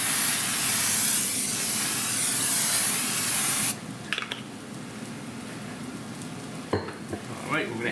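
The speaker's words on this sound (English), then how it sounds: "we're going to spray this slow cooker. Spray it really good all around." Steady spray hiss from a can of non-stick cooking spray coating a slow cooker for several seconds, then it stops, leaving quiet room noise with a few soft clicks and knocks.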